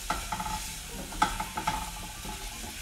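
Garlic sautéing in a pan for garlic bread, giving a low steady sizzle with a few light clinks of a spoon stirring, close and fairly quiet, no talking.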